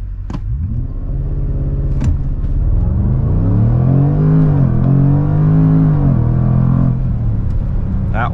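A 550 hp 2022 Jaguar F-Pace SVR accelerating hard from 0 to 100 km/h, the engine note climbing through several gears with brief shift breaks, loud and close, no talking over it.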